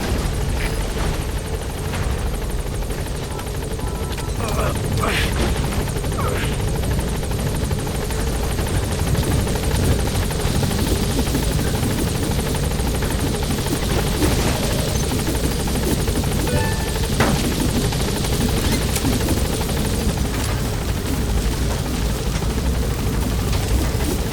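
The Pequod helicopter from Metal Gear Solid V hovers close by, its rotor drone loud and continuous throughout, with faint game effects scattered over it.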